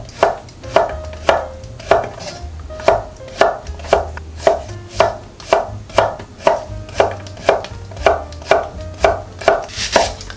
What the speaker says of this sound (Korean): 호박도 무하고 비슷한 크기로 잘라주겠어요.